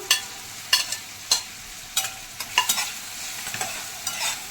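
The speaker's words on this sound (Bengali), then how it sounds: "এবার পেঁয়াজ আর টমেটো একটু ভালো করে ভাজা ভাজা করে নিয়ে" A pan of chopped onion and tomato sizzles steadily while a spoon scrapes and stirs in repeated strokes, each scrape a short, clear burst over the frying hiss.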